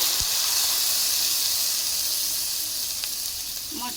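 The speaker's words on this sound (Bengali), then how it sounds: "জল দিয়ে দেব" Water hits frying spiced taro vegetables in a hot pan, setting off a loud, continuous steamy hiss and sizzle that holds steady and slowly eases, with a couple of faint clinks.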